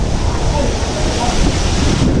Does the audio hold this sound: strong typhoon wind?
yes